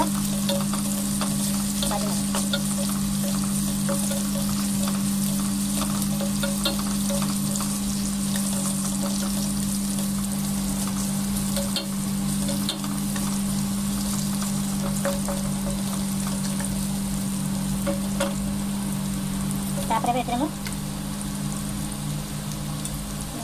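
Onions and drumstick pieces fry in hot oil in a pan for South Indian sambar, a steady close sizzle with occasional stirring scrapes throughout.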